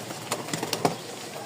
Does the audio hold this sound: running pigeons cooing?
yes